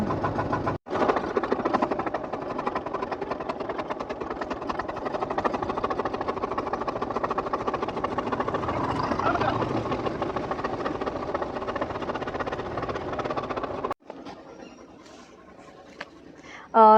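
A boat engine runs steadily on the Sharavati backwater near Honnavara, a continuous close droning hum with voices talking over it, then cutting out abruptly near the end into quieter background.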